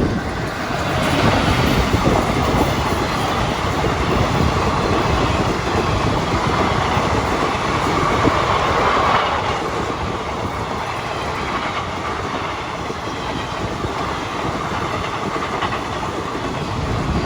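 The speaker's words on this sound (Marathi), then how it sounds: "किती सुंदर येऊ राहिली पहा रेल्वे" A train rolls along the railway track near an old British-era stone rail bridge in the countryside at dusk, a loud continuous rumble with rhythmic clickety-clack of wheels over rail joints, easing slightly in the later seconds.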